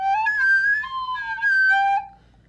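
A squeaky recorder whistle caused by finger holes left partly uncovered: several wavering high pitches that bend and drop, close and fairly loud, with no voice over them.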